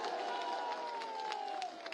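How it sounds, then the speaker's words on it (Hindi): A crowd at a large public rally in Ratwa, Malda North, West Bengal applauds, with dense, continuous clapping and crowd noise held steady for the whole stretch. A sustained tone runs through it. "अपने मित्र को एक बार जोरदार तालियों की आवाज से उनका अभिवादन करिए"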